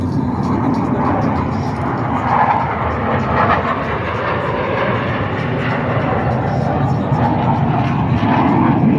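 Boeing F/A-18 Super Hornet jet at an airshow, a loud continuous roar of engine noise that holds steady and close throughout, with no clear speech.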